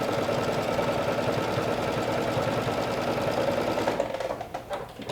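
Sewing machine running a long 4.5 stitch along a skirt pocket seam, a close, steady rapid mechanical chatter that slows and stops near the end.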